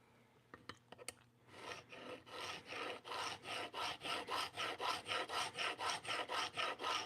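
A blade locked in a Katz-Moses jig is pushed over a coarse 320-grit stone, a few sharp clicks first, then a steady train of rhythmic gritty back-and-forth strokes, close and fairly quiet.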